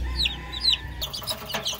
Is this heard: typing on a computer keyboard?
no